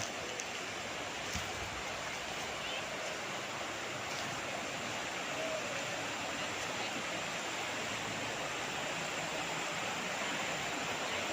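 A river running down from the mountains alongside a farm lot in Liliw, Laguna, where it flows past a cement bank, giving a continuous broadband rush of water, steady and unbroken, with no voices.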